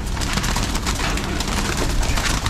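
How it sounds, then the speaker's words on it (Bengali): Many active pigeons coo together inside a loft, a dense, continuous chorus of soft throaty calls heard close and fairly loud, with some wing flutters and scuffling mixed in. "সব কবুতর প্রচুর পরিমাণে অ্যাক্টিভ।"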